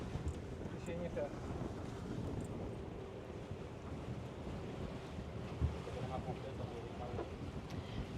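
Strong wind of about 18 knots buffets a sailing yacht crossing from the Atlantic to the Pacific, a constant low rush of gusts and sea noise against the microphone, with occasional faint knocks.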